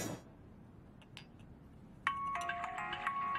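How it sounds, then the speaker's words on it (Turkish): A mobile phone starts ringing partway through, a bright electronic ringtone melody that repeats steadily over a low room hum, following a quiet stretch with a couple of faint knocks. "telefonun çalıyor oğlum"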